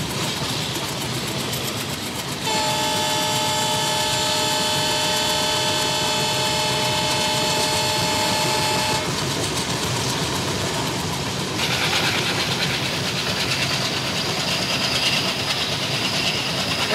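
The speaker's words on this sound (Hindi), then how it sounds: "एक बार लोकोमोटिव के पास चलते। चॉगिंग सुनिए गाइस, चॉगिंग सुनिए" Diesel locomotive hauling the Mitali Express, heard with a steady loud engine rumble and a strong tonal whine that sets in after a couple of seconds, then shifts character, with rail noise throughout.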